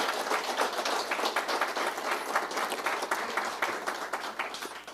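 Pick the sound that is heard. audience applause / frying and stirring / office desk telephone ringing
audience applause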